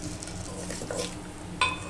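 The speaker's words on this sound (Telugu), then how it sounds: "ఆవాలు చిట్పట్టు అంటున్నాయండి" Mustard seeds crackle and pop in hot oil, light spluttering over a low sizzle, with one brief metallic clink near the end.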